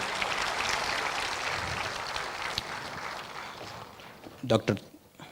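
Applause from the audience at a college freshman induction programme as a department head is introduced on the dais, a steady wash of clapping under a speaking voice that thins out toward the end.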